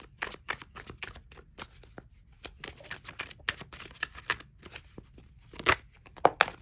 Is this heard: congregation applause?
no